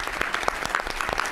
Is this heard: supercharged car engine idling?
no